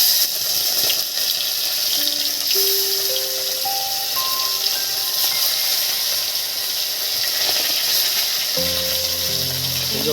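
Small bata fish rubbed with turmeric and salt slid one by one into hot oil, producing a loud, steady frying hiss that holds close and constant throughout, with no talking.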